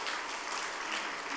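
A church congregation applauds a visiting guest during a worship service, a brief, even burst of clapping from a crowd that sounds moderately distant.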